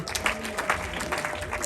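Brief burst of crowd clapping at a wedding, steady and fairly loud for its short length, with a low hum running beneath.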